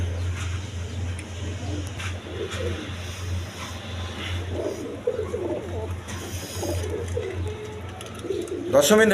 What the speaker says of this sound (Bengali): এইখানে এক পেয়ার আপনার শার্ডিং কবুতর আছে